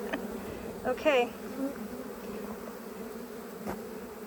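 Honey bees of an usurpation swarm buzzing at a hive entrance in a bee yard, a steady close drone, with a brief spoken word near the start.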